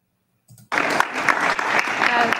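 An audience at a political debate breaks into loud, sustained applause after a brief murmur, dense clapping filling the room for about two seconds.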